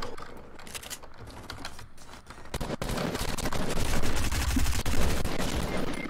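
Rapid gunfire in Fortnite, a dense clatter of shots building in loudness over a few seconds, close and continuous with no talk.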